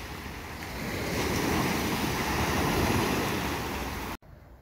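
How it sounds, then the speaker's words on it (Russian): Mediterranean sea waves wash onto the shore at Mahmutlar near Alanya, Turkey, in December, a steady, broad surf roar swelling slightly before cutting off abruptly at the end. "Ну и самое главное море"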